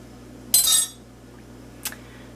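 A clean metal spoon clinks against a bowl of homemade vanilla ice cream mix made with cream and vanilla, one bright scraping clink followed by a fainter tap a second later, close by in a quiet kitchen.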